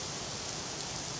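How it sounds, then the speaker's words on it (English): A heavy rain downpour hisses in a dense, steady wash of noise, loud and unbroken, heard from beneath a tree outdoors. "But when it is just a complete deluge like it is right now"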